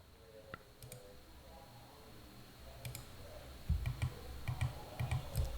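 Keys pressed on a computer keyboard while working in Blender, a series of small clicks, then a run of louder, closer taps near the end over faint room hum.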